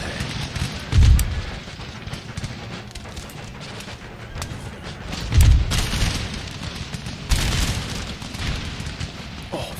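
Cannon artillery fire in the video game Empire Total War, with a few heavy booming shots spaced several seconds apart over a constant background of battlefield noise.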